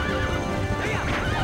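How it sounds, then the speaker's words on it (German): A horse in the video game The Legend of Zelda: Twilight Princess gives a loud, wavering neigh over continuous galloping hoofbeats and game noise. "Ach nee, mein Pferd ist leer."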